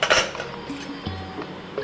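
A cooled pressure cooker is opened after several whistles to reveal cooked rice dough for papad. Its metal lid gives a sharp clank, light clinks and a short scraping rattle, close and brief.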